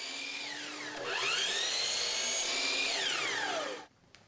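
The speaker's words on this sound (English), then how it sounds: "Or I can get the same result with my power miter saw by attaching a temporary stop and cutting" A power miter saw spins up with a rising whine, cuts through a wooden dowel with a loud, high buzzing drone, then winds down before stopping abruptly into near silence.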